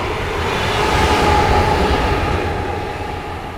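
A train rolls through downtown Stuart, Florida, with a loud, steady rumble and a faint high whine that fade slightly at the end, and no one speaks.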